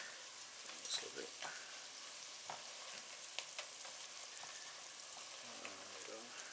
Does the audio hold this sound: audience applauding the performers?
no